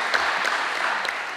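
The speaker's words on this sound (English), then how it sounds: "so double applause." Brief burst of audience applause at an academic association's opening ceremony, a short patter of clapping heard alone.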